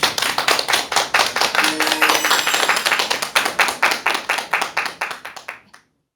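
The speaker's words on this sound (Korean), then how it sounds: "큰 박수 부탁드립니다" An audience claps for a lecturer at a televised talk on persuasion, with dense, rhythmic applause from many hands that holds steady and then fades out near the end.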